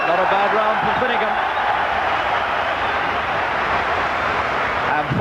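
A boxing crowd at the Bob Foster versus Chris Finnegan fight roars in a steady, loud wash of noise that holds for the whole stretch, with a commentator talking over it at the start.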